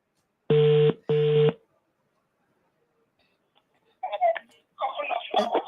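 Two long electronic ring tones pulse close together on an outgoing phone call, followed by a pause and then a person speaking.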